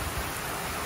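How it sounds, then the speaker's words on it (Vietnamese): Heavy rain driven by strong wind from Hurricane Idalia in Tampa, Florida, a dense steady roar of downpour close by with no talk. "bây giờ là mưa nặng hạt rồi nhá"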